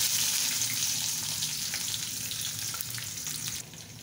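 Chopped onion and garlic hitting hot oil for a komli shaker jhol with taki shutki crackle in a loud, even sizzle that eases slightly near the end.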